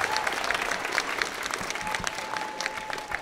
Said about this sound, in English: So can we just get an extra round of applause for Henry?